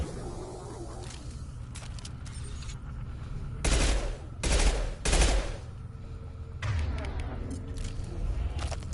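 Several bursts of gunfire from the video game Mass Effect 2, heard as a few loud, closely spaced volleys over a steady background hum of game ambience.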